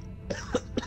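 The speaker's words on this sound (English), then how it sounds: "I've coughed so hard trying to get rid of it." A person gives three quick, harsh coughs or throat-clearing bursts in close succession, near and moderately loud.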